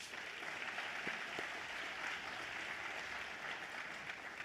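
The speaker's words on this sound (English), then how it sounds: "Let's give them a round of applause" Faint applause from an audience at a city's State of the City address in Little Rock, a steady soft patter of clapping that continues throughout the clip, heard from a distance.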